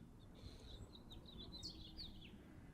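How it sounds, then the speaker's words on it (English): Faint high chirps and tweets from several birds outdoors in Arizona, scattered over a steady low background rumble. "Y'all hear the birds."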